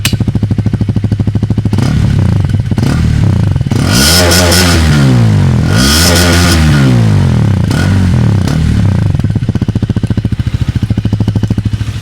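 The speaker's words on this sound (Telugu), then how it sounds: "సో ఇది హీరో ఎక్స్ట్రీమ్ 250 ఎగ్జాస్ట్ నోట్" A Hero Xtreme 250R 250cc motorcycle idles with a close, steady exhaust thrum, then is revved hard twice in rising and falling sweeps, with a few shorter blips before settling back to idle.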